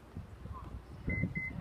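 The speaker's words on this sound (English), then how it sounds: "it will beep and not move" A Toyota Highlander's power rear hatch sounds two short, clear warning beeps in a row instead of moving, heard close over low background rumble.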